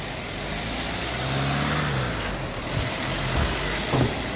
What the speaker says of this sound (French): Là, il y a juste un camion qui se dirige là-bas.